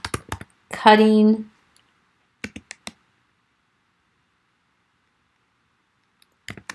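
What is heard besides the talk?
typing a file name on a computer keyboard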